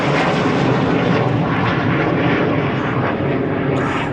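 An aircraft flies over during a tank days military show, its propeller engine a loud, continuous roar that fills the air without letting up.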